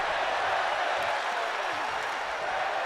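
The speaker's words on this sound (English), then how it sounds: "You hear the crowd chanting" A sold-out wrestling arena crowd in Allentown, Pennsylvania chants during a match, heard as a dense, steady roar of many voices throughout, moderately loud and without pause.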